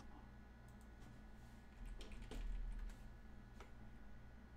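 Scattered clicks of fingers tapping a computer keyboard sound faint and irregular over a low, steady hum.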